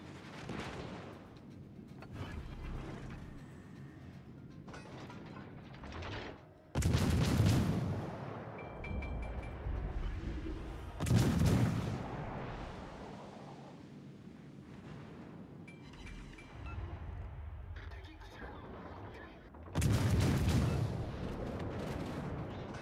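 Heavy naval guns boom in World of Warships: Legends, three big broadband salvos standing out over a continuous rumbling battle bed, with smaller blasts and crackles scattered between.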